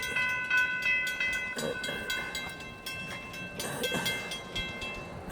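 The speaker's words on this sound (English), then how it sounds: "I heard the train, and here it comes." A train approaching along the line, a steady rolling rumble with ringing tonal horn or whistle notes held throughout, moderately close and with no talking.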